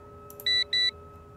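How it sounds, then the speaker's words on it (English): Two short electronic beeps sound in a video game, signalling that a character is in his office, each clear and evenly spaced over quiet background hum. "when it beeps, that means Fongo's in his office"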